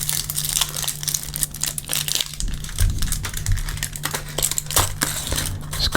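Foil wrapping on an orange-flavored chocolate crinkles and crunches up close in dense, irregular bursts with sharp snaps, with no talking.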